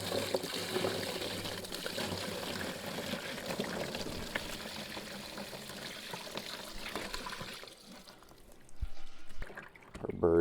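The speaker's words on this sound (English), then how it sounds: "And now let's dump our brine solution in." Brine solution is poured steadily over a raw whole chicken in a container, a continuous close splashing and trickling stream that tapers off, then scattered handling noises.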